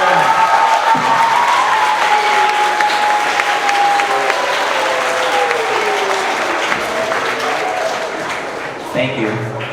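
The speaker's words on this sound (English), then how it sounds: "Students, would you please join me in giving your families a round, warm of applause and appreciation for them?" Warm applause from an audience at a sixth grade school recognition ceremony, loud sustained clapping with voices and a sustained tone mixed in, tapering gradually toward the end.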